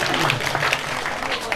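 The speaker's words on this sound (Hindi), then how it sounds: "जोरदार तालियां टीम सी के लिए।" An audience at an Islamic quiz competition claps hard for a team, a brief burst of dense applause mixed with a voice speaking over it.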